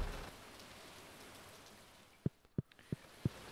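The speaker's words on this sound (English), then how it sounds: "You know, it's raining probably." Rain in the Stardew Valley video game, a soft steady hiss of falling drops, joined near the end by four sharp separate taps or plinks spaced about a third of a second apart.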